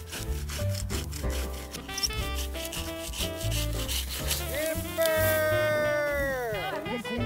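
A handsaw cuts through the trunk of a Christmas tree outdoors during a holiday tree hunt, a steady rasping rub of blade on wood close by, with people talking and laughing over it.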